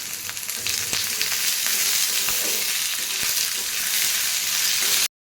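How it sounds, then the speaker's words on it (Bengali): Vegetables frying in a pan, a bright continuous sizzle close to the ear with occasional knocks and scrapes of stirring, ending abruptly. "এগুলো দিয়ে আগে ভাজা ভাজা হোক, তারপরে বাকি ওগুলো দিতেও কোনো অসুবিধা নেই।"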